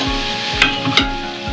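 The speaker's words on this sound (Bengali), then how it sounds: "এবার দিয়ে দেবো লবণ, হলুদ, লঙ্কার গুঁড়ো দিয়ে ভালো করে নেড়ে চেড়ে" Scraping strokes of a spoon stirring egg curry in a pan with salt, turmeric and chili powder, a few sharp clacks against the metal over a faint sizzle, close and alone.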